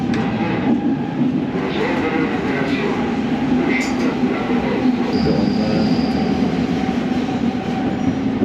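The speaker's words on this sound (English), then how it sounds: "Right, let me show you the Rome metro." A Rome metro train rumbles and roars steadily, with wheels clattering on the rails and a brief high squeal partway through.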